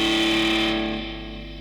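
Electric guitar run through a Cube Fx multi-effects preset combining a Wostone Coral overdrive, delay and reverb into a VHT Deliverance 212 cabinet; a sustained distorted chord rings out loud and alone, then slowly decays with a reverberant tail.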